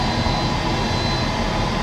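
A British Airways Boeing 777 at Toronto Pearson airport, passengers aboard, runs a jet engine nearby as a steady, dense roar with no pauses.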